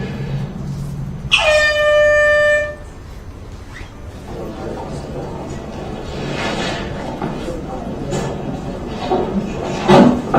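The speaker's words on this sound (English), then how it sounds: "Like the air horn." A single loud air horn blast of about a second and a half, sounded by a school principal, followed by a quieter stretch of background noise.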